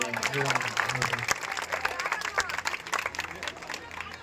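An audience at a Shreemad Bhagwat recital in Mulund, Mumbai breaks into a round of loud, dense clapping that fills the hall and carries on for several seconds, with a voice over a sound system at the start.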